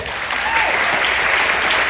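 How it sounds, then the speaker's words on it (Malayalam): Audience applause at a motivational program in Chalakudy, a steady wash of clapping from a crowd sustained for about two seconds without talk. "കഥ കേൾക്കാൻ ഇഷ്ടമാണോ ഇഷ്ടമുള്ളവർ മാത്രം ഒന്ന് കൈയടിക്കോ"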